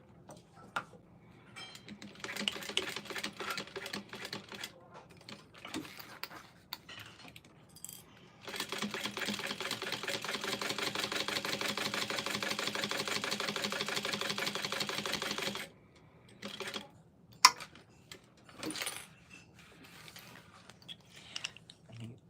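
A sewing machine stitches up the side of a shoulder bag in a steady buzzing run of about seven seconds, framed by scattered clicks and handling noises, with no talk.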